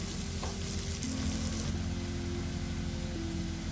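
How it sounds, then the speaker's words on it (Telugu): Sliced onions sizzle steadily in hot oil left over from frying prawns, cooking for a prawn and gongura curry; a loud, continuous close-up frying hiss with a faint background hum and no talking. "రొయ్యలు తీసుకున్న ఆ నూనెలోనే ఉల్లిపాయలు కూడా వేస్తున్నామండి"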